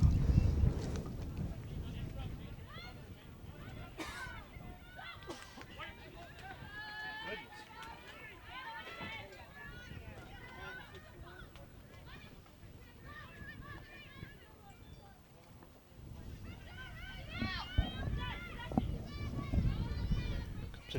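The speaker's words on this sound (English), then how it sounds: "Wind continues to blow." Wind buffets an outdoor field during an Iowa versus Indiana match, with low gusty rumbles strongest at the start and end, running under continuous commentary speech.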